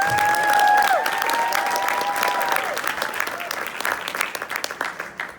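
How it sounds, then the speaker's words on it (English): An audience at a motivational speaking event breaks into loud, sustained applause that gradually thins toward the end, with a brief whistle early on. "Give him a round of applause, please."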